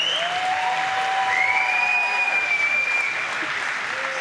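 Sustained crowd applause fills a caged fight venue after a bout, dense and loud throughout, with a few whistles rising above the clapping.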